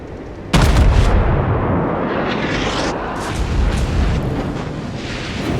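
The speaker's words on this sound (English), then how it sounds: "the enemy battleship is actually shooting high explosives" A battleship's high-explosive shells in World of Warships fire with a sudden heavy boom, then a long rolling rumble follows with further distant blasts.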